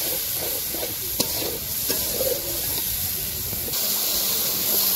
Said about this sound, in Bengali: মশলাটা একটু কষে নিয়ে